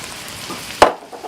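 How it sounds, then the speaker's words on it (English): A pound of shrimp hits a hot pan with a sudden burst of sizzle, one sharp splash of frying noise that quickly settles into a quieter crackle. "Now we're going to put in our 1 pound of shrimp in here."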